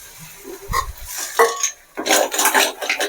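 Boiled field snails tipped into a pan of sautéed masala for a snail gravy, then stirred, giving a few close metallic clinks and scrapes of spoon on pan followed by a rattling, bursty churning with a faint sizzle underneath.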